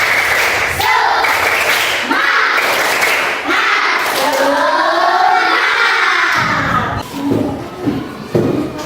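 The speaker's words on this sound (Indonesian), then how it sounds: "Supaya lebih semangat kita tepuk semangat." Children in a classroom doing a rhythmic clapping cheer, patterned hand claps chanted along with voices, loud and close, with an adult voice leading through parts of it.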